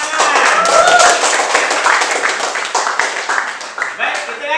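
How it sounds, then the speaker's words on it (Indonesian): A classroom of students claps hands in applause after a lesson on hydrostatic pressure, a dense, steady patter of many hands close by that slowly thins toward the end. "berikan tepuk tangan"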